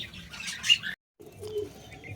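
Pet birds chirp while feeding, giving a few brief, close tweets and fluttering calls that break for a moment and then resume more softly, with no one talking.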